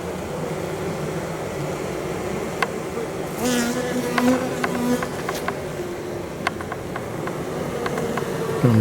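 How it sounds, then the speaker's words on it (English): Honeybees buzz steadily across the cover of a Layens hive during a swarm inspection, a dense close drone with a few louder individual bees passing near, alone without talk. "Or maybe it's just these bees on the cover here."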